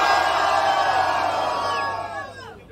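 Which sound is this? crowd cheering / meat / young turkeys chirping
crowd cheering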